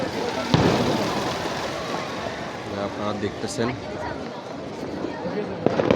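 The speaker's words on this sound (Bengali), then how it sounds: "চতুর্দিকে আতশবাজি ফোটানোর আওয়াজ হচ্ছে" Scattered New Year fireworks pop and crackle in the distance, with a couple of sharper bangs, under a person talking over a noisy outdoor background.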